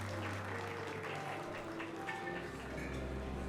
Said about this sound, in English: why are you people clapping?